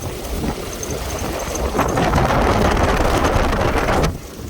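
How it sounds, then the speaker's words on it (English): Steady, rumbling wind buffeting the microphone in an open-top 1915 Ford Model T, loud and continuous, swelling midway and dropping off sharply near the end. "because it is pretty windy today"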